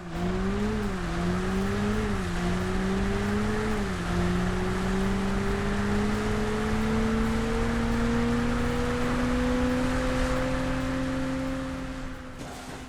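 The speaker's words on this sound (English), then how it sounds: "It's your normal revving of engines, brakes, and tire screeching, all of which are replicated well here." Car engine from the Burnout racing game on the original Xbox, a continuous close drone whose pitch climbs slowly and steadily as it revs, with no voices over it.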